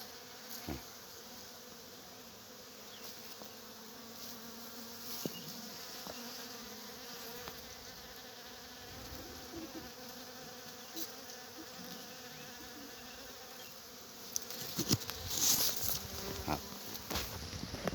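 Bees buzz steadily around blooming longan flowers in an orchard, a soft continuous hum with occasional louder passes from individual insects close by.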